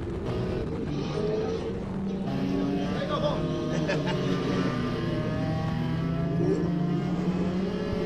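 A touring race car slides along a wet track in heavy rain at Londrina, its engine droning steadily under continuous commentary in Portuguese.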